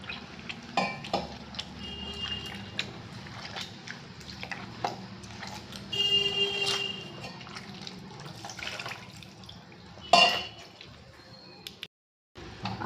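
Water is poured into a vessel of mango peels while making aamras, giving a short trickling pour amid clinks and scrapes of utensils in a quiet kitchen.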